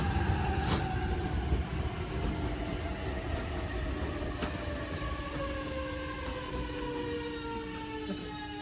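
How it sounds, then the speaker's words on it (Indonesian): A train pulls into Yamato, a small station in Japan, with steady rumbling wheels and drawn-out descending brake squeals sliding across the rails, fairly close and continuous for several seconds with no talking. "Keretanya datang."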